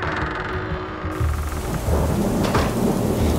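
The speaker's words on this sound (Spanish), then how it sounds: "La intensa lluvia golpeaba sobre la única ventana de mi habitación" Heavy rain drumming steadily on a bedroom window, with low thunder rumbling in and swelling louder toward the end, no voices.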